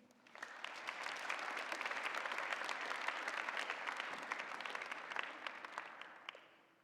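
An audience in an assembly hall breaks into steady applause to welcome a speaker, a dense wash of many hands clapping that swells quickly, holds for several seconds, then tapers off, with no voices over it.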